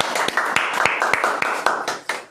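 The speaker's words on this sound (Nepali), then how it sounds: "आउनुहोस्, हामी ताली बजाएर यी सबै कुराको लागि हामी धन्यवाद दिनेछौँ।" Congregation at a Nepali church service clapping hands together in thanks, a dense run of claps with sharper beats marking a loose rhythm, fairly close and lively, with faint voices mixed in.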